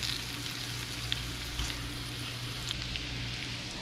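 Butter sizzles and crackles steadily in a frying pan, ready for rudder fish fillets, a continuous close hiss with a few small pops throughout.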